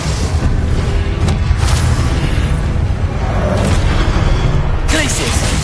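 Spell blasts in Hogwarts Legacy on PS5, loud booming bursts and whooshes layered over a dense, constant game soundscape, with a few sharper hits standing out.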